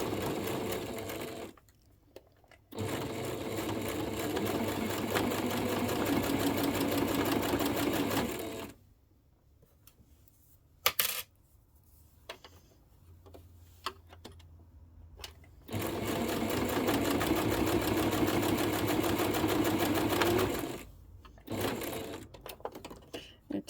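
A sewing machine stitches a Yeti water bottle holder in long steady runs of rapid needle chatter, broken by quiet pauses and small clicks as the fabric is turned and repositioned.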